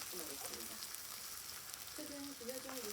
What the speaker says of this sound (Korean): 장작으로 떼서 난로에 소뚜껑을 얹어서 이렇게 구워 먹으니까